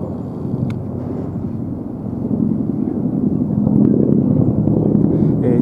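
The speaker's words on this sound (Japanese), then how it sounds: "ヘリコプターが飛んでおります。" A Japan Ground Self-Defense Force helicopter flies overhead during disaster relief for a large fire in Ome, giving a continuous pulsing rotor rumble that swells louder toward the end.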